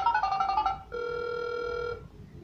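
Phone ringing in GTA 5: an electronic ringtone, a warbling trilled ring followed by a steadier sustained tone that cuts off, clear and close with no talk.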